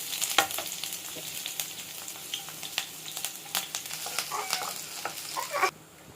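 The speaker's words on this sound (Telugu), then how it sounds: "ఆయిల్ హీట్ ఎక్కింది. ఇప్పుడు దీంట్లోకి సన్నగా చాప్ చేసి పెట్టుకున్న తెల్లగడ్డ, పచ్చిమిరపకాయలు వేసుకున్నాం." Finely chopped garlic and green chillies hit hot oil for paneer fried rice, crackling in a bright, close sizzle with scattered pops and a few stirring clinks, stopping abruptly near the end.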